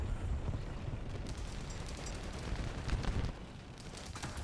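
Tank cannon fire in the War Thunder video game, with the Puma IFV in play, comes as a dense, sustained roar of booming blasts and rumble that dips briefly near the end.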